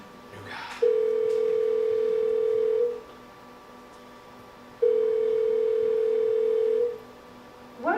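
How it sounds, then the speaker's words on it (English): A telephone line gives two long, steady single-pitch tones of about two seconds each, separated by a two-second gap, loud and clear over a faint background hiss. "the phone number you're trying to reach is currently busy"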